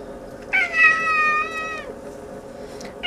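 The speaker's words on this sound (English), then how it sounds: "And a cat that's half Siamese." A half-Siamese cat gives one clear, drawn-out meow close by, rising then sliding down over about a second, followed by quieter room tone and the start of a second call at the end.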